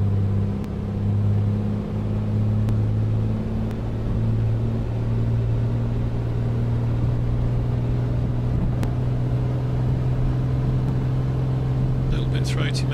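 Steady, loud drone of a Comanche 250 aircraft engine in a flight simulator game, a deep throaty hum holding constant throughout, with its pitch easing slightly early on.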